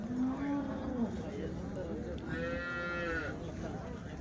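Cattle lowing at the Sunday cow market in Chintamani, two drawn-out moos a second or so apart, one deep and one higher, over a busy outdoor background.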